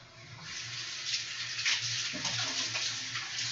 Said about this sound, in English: Always remember to wash your hands.